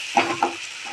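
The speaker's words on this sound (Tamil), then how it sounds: "தனி மிளகாய் பொடி, நல்லா கிண்டி விட்டுக்கோங்க." Chili powder masala being stirred and fried in a pan for masala pattani sundal, a couple of soft scraping strokes over a steady low sizzle, close and alone.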